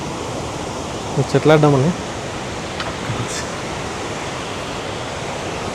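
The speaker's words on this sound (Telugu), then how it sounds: "ఈ బండాల మీదకని మనకి వాటర్ అనేవి కిందికి అట్లా పోస్తున్నాయి" Kuntala waterfall, water pouring over rocks as a constant broad rushing roar, with someone briefly speaking over it.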